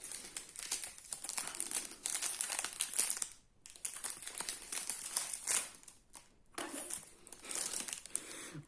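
Wankul season 1 trading card pack wrappers being torn open, with close, bright plastic crinkling in several bursts separated by short silent gaps.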